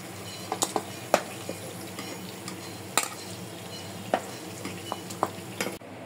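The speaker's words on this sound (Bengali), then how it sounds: "মাছ ভাজা হয়ে গেছে, উঠায় নেব।" Ilish fish frying in oil in a pan, a steady low sizzle broken by scattered sharp clicks and taps of a utensil against the pan, close up with no voices.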